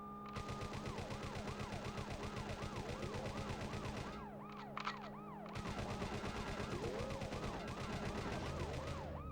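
Rapid automatic gunfire rattles almost without a break in the police-chase video game Worlds Scariest Police Chases, with a wailing police siren running underneath. The shooting stops briefly midway, then resumes just as dense.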